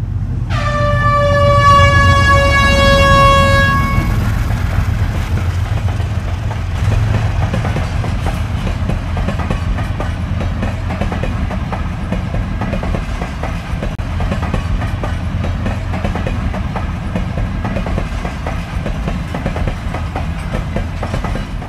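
A train on the railway line to Karachi, near Lahore, sounds a loud horn blast at the start, then passes with a steady heavy rumble and rhythmic clickety-clack of wagons over the rails. No voices.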